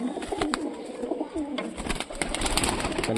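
Punjabi pigeons cooing close by in soft, repeated throaty coos, with rustling and faint background noise.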